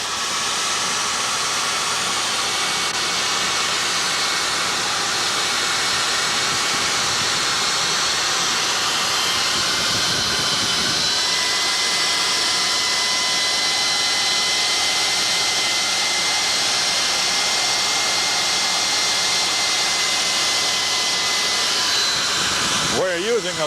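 Trepanning cutter with a carbide blade cutting a metal test plug, with coolant mist from a cooling tool, giving a steady loud hissing grind that runs the whole time, with a brief change midway and near the end.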